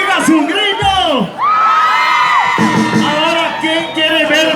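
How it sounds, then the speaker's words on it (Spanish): A crowd of girls at a live 2019 concert in Lamay shouts and screams loudly on cue, with sustained cheering whoops rising over the hall and a short dip before the roar swells again. "¿Dónde están las chicas? ¡Un grito!"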